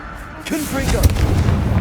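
A Confringo blasting curse goes off in Hogwarts Legacy as a short, loud booming burst, with game sounds and a voice around it.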